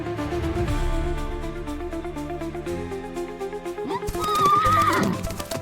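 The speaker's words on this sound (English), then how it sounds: "I woke up to the sound of galloping horses." Horses in the video game Dust & Courage neigh loudly over a musical game soundtrack, followed by a closer, shriller whinny near the end, with galloping hoofbeats mixed underneath.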